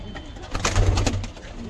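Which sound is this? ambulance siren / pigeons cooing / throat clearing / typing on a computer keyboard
pigeons cooing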